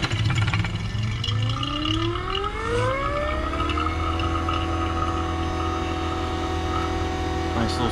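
A Fieldpiece VPX7 vacuum pump starts up with a rising motor whine that climbs in pitch and then settles into a steady, even hum, loud and close.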